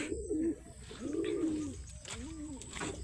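A racing pigeon coos near and clear after landing, giving three rounded, rising-and-falling calls in slow succession over faint outdoor background noise.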